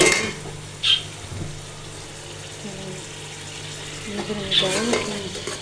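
Onions frying in a pot for aloo matar salan, a soft sizzle beneath a few sharp scrapes and clinks of a spoon against the metal, with brief sounds of movement between them.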